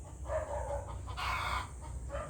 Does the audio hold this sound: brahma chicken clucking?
yes